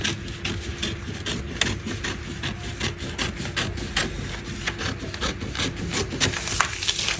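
Scissors cut out fabric pieces for a fitted waistcoat pattern, producing a continuous run of rapid crisp snips and rasping fabric sounds, close and steady, with no speech.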